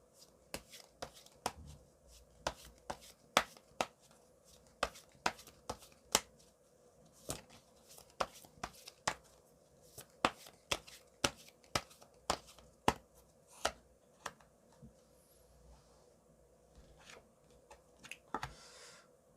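Tarot cards being shuffled by hand and drawn, a long run of crisp, irregular card slaps and riffles close up, with quiet pauses between them.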